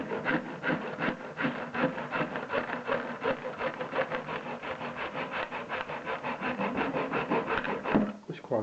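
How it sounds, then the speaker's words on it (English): A fine-tooth hand saw cuts through a plastic overflow pipe in rapid, steady back-and-forth strokes, a close, rasping rhythm that runs continuously before stopping near the end. "always use a fine tooth saw when you're sawing through plastic pipe"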